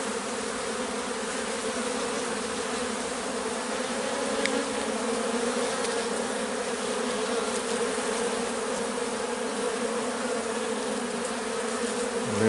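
Honeybees hum in a steady, dense buzz from an opened beehive, loud and unbroken throughout with no voices.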